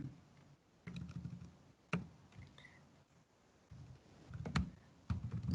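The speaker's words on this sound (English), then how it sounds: "So I'm typing on behalf of Ms.Zizi" Typing on a computer keyboard during an online study session: irregular bursts of soft clicking keystrokes, close and fairly quiet, with faint background hiss and no speech.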